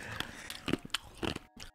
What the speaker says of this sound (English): No one chews dum dums.